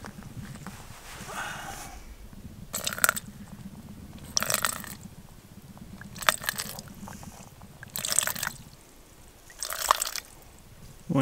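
Water being drawn at a cold winter campsite: five or six short splashing, gurgling bursts spaced about every one and a half seconds over a steady low rumble, close and fairly loud, with no talking.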